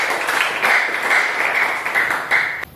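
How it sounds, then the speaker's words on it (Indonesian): Classmates in a primary school classroom give a steady round of clapping for two fellow students, close and fairly loud, with no voices over it, ending abruptly. "tepuk tangan dulu buat teman kalian berdua"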